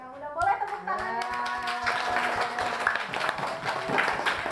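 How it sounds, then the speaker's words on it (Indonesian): Clapping from a fifth-grade primary classroom in Indonesia fills the room after a teacher's voice, a dense steady patter of many small hands that keeps going to the end. "udah boleh tepuk tangannya"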